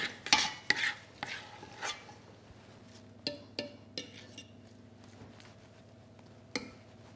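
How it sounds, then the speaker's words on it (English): A fork scrapes and taps against a dish while spreading mashed potato topping over a fish pie, giving a series of close, sharp clinks and soft scraping strokes. "I'm going to use a fork to spread it out and roughen it up"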